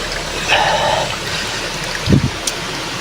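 Fresh water pours steadily from a spring source in Mindanao, a continuous close rushing flow with a brief splash and knock partway through.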